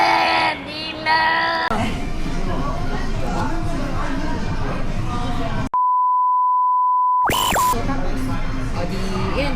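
Phone call ringing until answered, with a steady electronic tone running alone for about a second and a half after loud overlapping chatter and yelling, then a short rising beep as the line connects.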